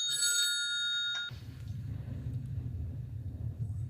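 A telephone bell rings in short bright bursts for just over a second, fairly faint, then stops and leaves a low, steady rumble of room background.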